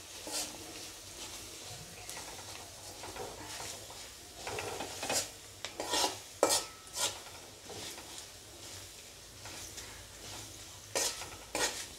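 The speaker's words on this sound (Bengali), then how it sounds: "একটু দিয়ে একটু ভালো করে তেলে নেড়ে নেব।" Dried red chillies and whole panch phoron being stirred in oil for a raw mango pickle: quiet, soft sizzle under intermittent scrapes and clinks of a spoon against the pan, close but faint.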